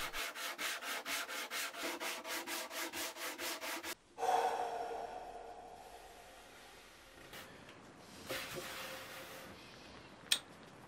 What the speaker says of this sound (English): knock off any sharp edges with a bit of sanding